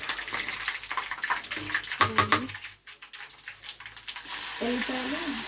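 Oil sizzles and crackles in a pan as cumin and mustard seeds hit it for tempering, a soft frying hiss with intermittent louder spatters, while a person talks over it.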